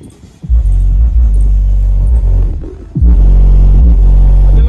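A car sound system in a Hyundai Verna, with Pioneer subwoofers and two amplifiers set to volume 20, plays loud, bass-heavy music that thumps and pulses after a quiet start.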